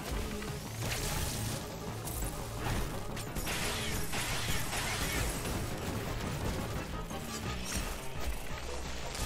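Rapid weapon fire in the video game Metroid Dread on normal mode, dense bursts of shots and mechanical impacts layered over game music, loud and continuous with no voices.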